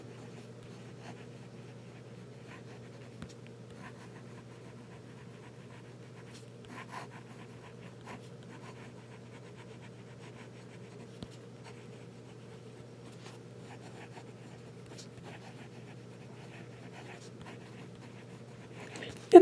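Fine-nib fountain pen writing on paper, a soft, steady scratching that runs quietly and close throughout, with a few slightly sharper strokes over a constant low hum.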